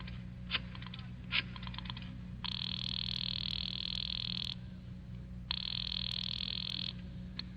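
A telephone call placed in an old-time radio suspense drama: a few sharp clicks, then two long buzzing ring tones separated by a pause, close and clear with no talking.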